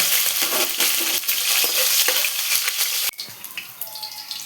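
Mustard seeds and green chillies fry in hot oil with a loud, crackling sizzle and scattered pops, plus occasional stirring knocks. It drops abruptly to a quieter simmer partway through.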